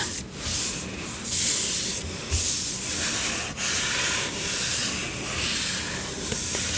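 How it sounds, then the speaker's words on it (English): Sticky sticker residue being rubbed off a book, close and loud: repeated hissing, rasping strokes in an uneven rhythm, each scrub a few seconds long with brief pauses between. "There's something sticky right there. I'm just gonna rub it a little bit."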